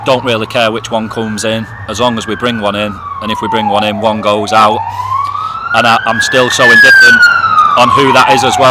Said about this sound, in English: I apologise for the siren, that's just Manchester for you.